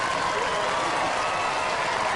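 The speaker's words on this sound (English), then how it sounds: "Cue the applause." An audience applauds Razor, the newly crowned Robot Wars UK champions, at the show's grand final, with dense, steady clapping and crowd noise filling the whole stretch at an even level.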